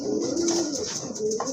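Large pigeons in a breeding loft coo steadily and close, low throaty calls rolling continuously over a constant background hum, with no voices.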